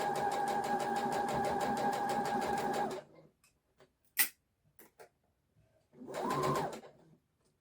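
A sewing machine stitches gathered skirt fabric in a steady, fast mechanical whir for about three seconds, then stops, followed by a few sharp clicks and a second short burst of running.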